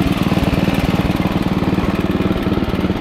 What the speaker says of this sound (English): It's got a hot dog muffler, which makes it a lot louder.